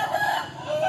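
A fighting rooster crows, a single short, close call heard alone with nothing else over it.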